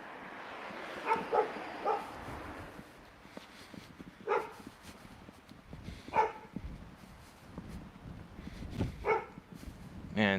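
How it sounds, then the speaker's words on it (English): A dog barks loudly in spaced, repeated bursts, roughly every couple of seconds, with a few yips among them and a low background hum between barks. "Man, that dog is loud."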